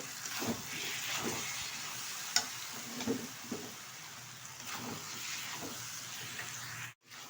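Cashew and raisin paste fries in a pan for a green jackfruit and prawn dish, with a soft, continuous sizzle broken by scattered scrapes and clinks as it is stirred.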